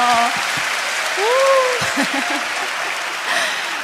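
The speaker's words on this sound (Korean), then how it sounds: "박수 부탁드릴게요" A church congregation at a Bible recitation contest claps in steady applause throughout, with a few short voices and cheers cutting in over it.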